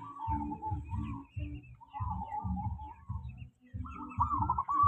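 Local zebra dove (perkutut) cooing close by, a series of rhythmic, soft, bubbly coo phrases repeated in short bursts with brief gaps, clear and alone.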